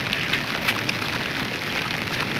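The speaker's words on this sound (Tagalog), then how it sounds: "Ulan." Steady rain falls outdoors in Hong Kong, an even, close hiss of drops pattering on surfaces with a few slightly sharper taps, no voices.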